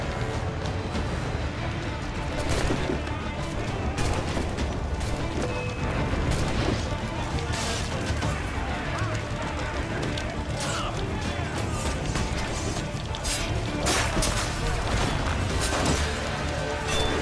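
Ship cannon fire during a naval battle in Assassin's Creed 4: Black Flag, a dense, continuous din of booms and crashes with creaking and impacts throughout, loud and sustained.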